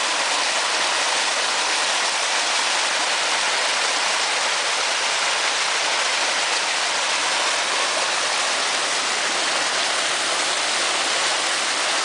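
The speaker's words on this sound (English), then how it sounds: "From a major open stream and a gully that's been here for a very long time." Flood water rushing down a long-established open hillside stream and gully, carrying leaves, silt and debris: a loud, unbroken roar of running water close by, steady throughout with no voices.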